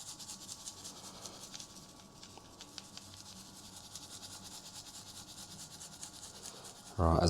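Seasoning rub is worked into meat by hand with soft, steady scratching and rubbing, faint and close over a quiet background, ending in a sudden louder noise.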